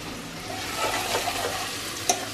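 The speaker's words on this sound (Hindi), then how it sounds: "तड़का देके प्याज डाला है" Chopped onions sizzle and crackle in hot tempering oil for a tadka, a steady soft frying hiss with faint stirring, close and fairly quiet.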